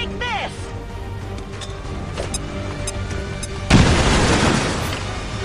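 An explosion in the video game XCOM 2 erupts as a sudden loud broadband blast partway through, then decays into a rumbling tail over game music and effects.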